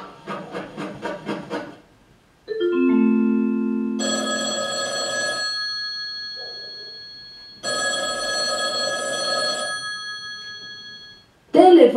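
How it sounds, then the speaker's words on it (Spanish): An old-style telephone bell rings in rapid trilling bursts, then a doorbell-like chime tone sounds, with a pause and another ringing stretch. "Teléfono antiguo."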